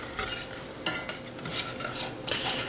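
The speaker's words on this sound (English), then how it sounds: "Now, I'm gonna get my stir here. Just kind of get everything all together." A spoon stirs sauce ingredients in a pan for raspberry balsamic pork tenderloin, giving scraping and clinking strokes with one sharp knock partway through, close and moderately loud with no talking.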